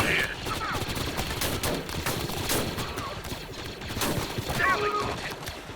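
Dense blaster and gunfire battle from Star Wars: Galaxy at War, a clone wars base-defense fight at a breach, with rapid overlapping shots and bursts sounding close and continuous for several seconds.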